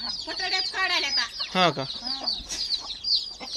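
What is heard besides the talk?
village hen clucking with chicks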